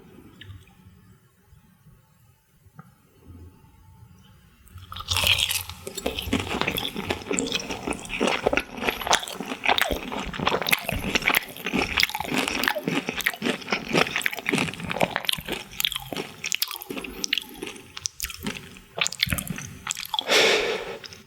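Jadam sriracha fried chicken being eaten close to the mic, quiet at first, then loud, dense crunching and wet chewing bites that continue steadily with no talk.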